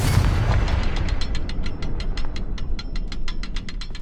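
A Confringo blasting spell explodes in Hogwarts Legacy, opening with a loud booming burst of low rumble, then a fast series of crackling, ratchet-like clicks repeating evenly over a sustained roar.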